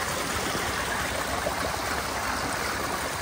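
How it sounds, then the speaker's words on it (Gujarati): A forest stream rushes in an unbroken, even wash of water noise, close and fairly quiet, with no voices. "મસ્ત મજાનો ઝરણો, આ જંગલની મજા છે"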